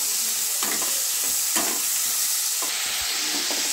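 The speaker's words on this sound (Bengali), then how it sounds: "একটু হলুদ দিয়ে দিলাম, একটু লবণ দিয়ে দিলাম যাতে তাড়াতাড়ি নরম হয়ে যায়। একটা কাঁচা লঙ্কা দিয়ে দিলাম, দিয়ে এবার একটু নেড়ে দিচ্ছি।" A spatula scrapes and stirs tomatoes, turmeric, salt and green chili in a pan for a fish curry, making several distinct stirring strokes over a constant close frying sizzle.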